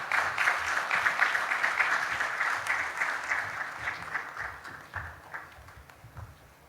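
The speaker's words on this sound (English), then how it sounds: "let us now welcome Professor Phil Cardew with a huge round of applause" Audience applause at a university graduation ceremony as a professor is welcomed to the stage, a sustained burst of many hands clapping in a large hall that gradually thins out over several seconds.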